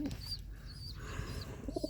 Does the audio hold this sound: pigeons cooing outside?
yes